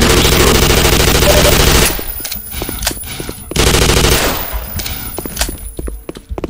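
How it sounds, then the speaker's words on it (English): Loud, sustained automatic machine gun fire in a Half-Life 2 joke mod video game, a continuous burst followed by scattered single shots and short bursts, close and dominant. "it's machine gun time"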